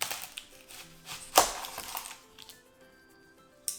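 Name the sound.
knife cutting an onion into chunks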